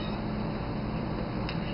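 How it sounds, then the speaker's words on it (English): A cat meows briefly against a constant background hiss. "Sorry, that was a cat."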